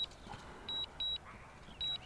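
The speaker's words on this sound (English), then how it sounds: "It does stop the beeping, but it also stops return home." Three short high-pitched electronic beeps sound in a steady pattern from a DJI Mavic Mini drone's return-home warning, quiet against faint background hiss.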